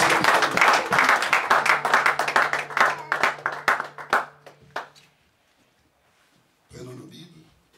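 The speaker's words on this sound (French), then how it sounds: "Donnez une acclamation à Dieu." A church congregation bursts into clapping and cheering voices, loud and dense for about five seconds before dying away to near silence, followed by a brief murmur of voices.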